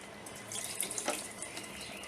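Water from a glass pours into a pan of fasting-style peanut and potato curry, a short, moderately quiet splashing gush with no voices.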